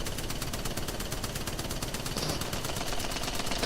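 The Spitfire light machine gun in Apex Legends fires a long sustained burst, rapid evenly spaced shots hammering without pause, loud and close.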